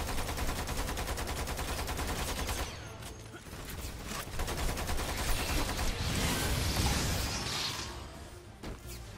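Turret gunfire in the shooter Lost Planet 2, rapid continuous automatic bursts hammering loud and close, with short breaks and a few heavier blasts.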